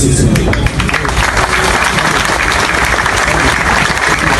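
Dense, steady applause from a large crowd honoring uniformed police officers at an official ceremony in Haiti, continuous and fairly loud throughout with no talk.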